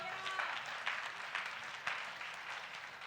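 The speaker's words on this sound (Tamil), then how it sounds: "கைதட்டு" Applause from a church congregation during a New Year service, a soft, steady wash of clapping that stays fairly faint and even for a few seconds.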